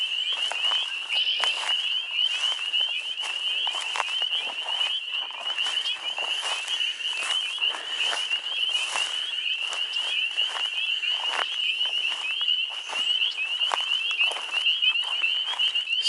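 A chorus of frogs sings steadily from a pond, a dense continuous trill with overlapping calls at close to moderate distance, unbroken for the whole stretch with no talking.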